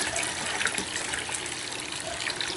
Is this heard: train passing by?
no